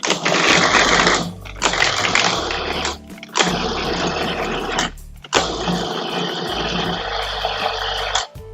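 A pasta machine mixes dough with saffron, turmeric and flour, giving a loud, whirring mechanical drone that runs in several long stretches broken by short stops, close and alone without speech.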